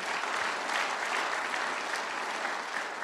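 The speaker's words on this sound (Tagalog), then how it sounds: "Lakasan niyo yung palakpak niyo." Congregation at a Tagalog preaching service clapping loudly and steadily, a dense unbroken roar of many hands.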